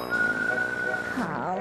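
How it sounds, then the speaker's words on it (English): Steady, high whistled tune from circus performers billed as whistling wiener dogs, a sustained bright note holding before wavering and sliding toward the end, with voices mixed in. "The wonderful whistling wiener dogs."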